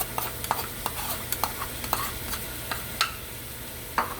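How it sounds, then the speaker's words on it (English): Chopped onions and garlic sauté in a pot with ground chicken, with a soft steady sizzle under repeated sharp spoon scrapes and stirring clicks, close and fairly quiet. "Now I added the onions, I'm adding the garlic."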